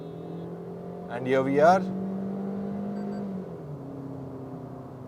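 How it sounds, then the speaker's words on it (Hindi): Maruti Brezza engine revving under hard acceleration, a steady mid-pitched drone holding through the clip while someone talks over it. "एक्सीलेटर मैंने हार्ड दबा दिया"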